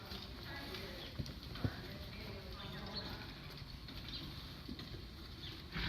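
Hooves of a horse being ridden during a riding lesson, faint soft clip-clop steps in an uneven rhythm over a quiet outdoor background, with a voice speaking in the clip.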